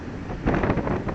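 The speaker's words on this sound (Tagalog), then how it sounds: "Malakas na hangin." Strong wind buffets the microphone in a low rumbling roar that swells stronger partway through, close and loud, in Tagaytay, Philippines.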